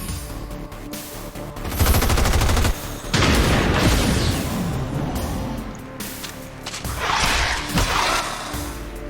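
Gunfire in the video game XCOM 2: dense bursts of automatic shots and heavy impacts crackle loudly and continuously, rising into a thick barrage midway and flaring again near the end.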